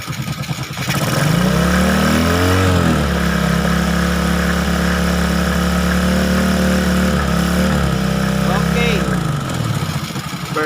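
Honda XRM125 motorcycle engine just back from a top overhaul, revving up from idle and holding a loud, steady drone up close, then easing back down near the end.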